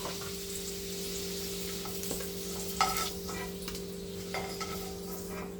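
Potatoes frying in oil in a pan with turmeric: a soft continuous sizzle under a steady low hum, with a few scraping clinks as pieces are stirred and lifted out near the end.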